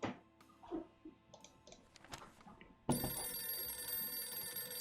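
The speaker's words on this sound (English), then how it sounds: "It's the phone." In a video game, a telephone suddenly starts ringing with a loud, sustained bright tone partway through, after quieter clicks and ambient sounds, with no talking.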